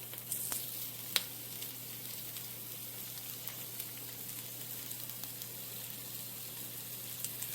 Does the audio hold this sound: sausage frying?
yes